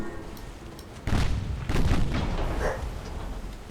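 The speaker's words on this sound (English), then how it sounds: "Fire some fucking torpedoes at it." Warship torpedo launches and naval gunfire in the Ultimate Admiral Dreadnoughts video game, two heavy booming bursts in succession over a rumbling battle background, moderately loud and close.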